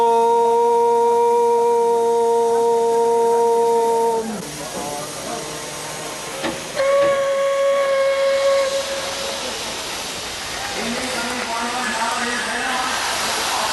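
An Indian Railways steam locomotive blows its steam whistle in long sustained tones, then releases loud rushing hisses of steam, close and prominent, with the whistle sounding again in shorter blasts.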